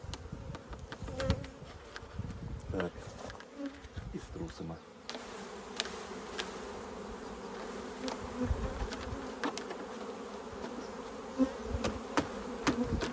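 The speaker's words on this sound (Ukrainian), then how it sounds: "Так, струшуємо її у вулик." Queenless young Carpathian honeybees being shaken from frames into a hive, a dense continuous buzzing swarm close by, with scattered knocks and bumps of frames and hive parts.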